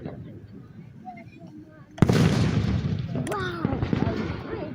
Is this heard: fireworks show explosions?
yes